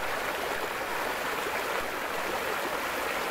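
A pretty little stream with an iron-stained bed flows steadily and close by, a continuous broadband rush of running water with no voices.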